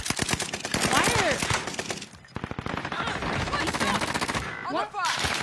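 Rapid automatic gunfire from a video game, loud bursts of repeated shots filling most of the stretch with a short pause midway, with a player's voice mixed in.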